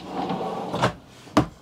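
Deep storage drawers in an RV sliding open and shut, giving two short thumps near the microphone with a soft rolling rustle before them and no talk.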